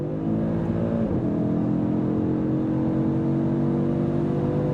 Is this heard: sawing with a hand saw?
no